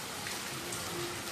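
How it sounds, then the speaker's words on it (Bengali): Heavy pouring rain outside, a dense steady hiss of downpour close by and fairly loud, continuous with no talk. "বাইরে নেমেছে মুষলধারে বৃষ্টি।"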